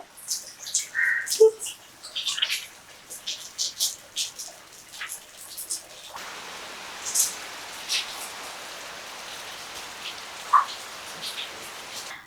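Rain falling outdoors in Sri Lanka, a patter of scattered drops on surfaces, with a few faint bird calls and shifting background noise, no talking.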